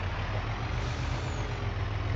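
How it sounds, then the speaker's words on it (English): Truck engine in Farming Simulator 25, a low, steady rumbling drone with a constant throb that stays even and fairly quiet throughout, with no talking. "the truck drowns it out now"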